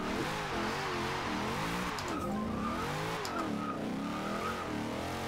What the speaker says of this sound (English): not much tyre spinning gear 3 there